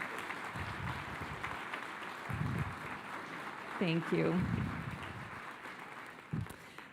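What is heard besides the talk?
standing audience round of applause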